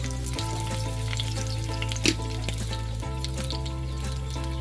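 Split green chillies, curry leaves and five-spice seeds sizzle in hot oil for a taro dish, a dense, loud, continuous frying hiss with a steady hum and one brief clink partway through.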